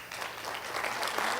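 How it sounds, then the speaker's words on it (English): Audience applause for army veterans at a gathering, a broad wash of many hands clapping that swells slightly, heard at moderate distance. "Let's give them an applause."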